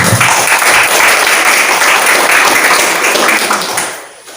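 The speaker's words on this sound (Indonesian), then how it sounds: "maka kita kasih aplaus dulu untuk kegiatan ini." Audience at a campus English competition opening ceremony applauding, a dense, loud burst of clapping that holds steady for several seconds and then fades out.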